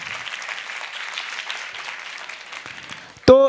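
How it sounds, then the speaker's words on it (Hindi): Audience clapping at a cyber psychology conference talk, a light scattered patter of hands held at moderate volume for about three seconds, ending in a sudden loud tonal burst. "ताली बजाओ ना"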